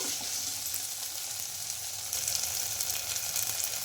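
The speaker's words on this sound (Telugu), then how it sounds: "ఈ అల్లం వెల్లుల్లి పేస్ట్ కూడా కొంచెం పచ్చివాసన పోయేవరకు అయితే ఫ్రై చేసుకోవాలి" Ginger garlic paste fries in a pan with a steady, close sizzle, a dense hiss that grows slightly louder partway through, with no voices.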